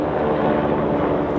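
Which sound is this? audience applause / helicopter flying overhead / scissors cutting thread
helicopter flying overhead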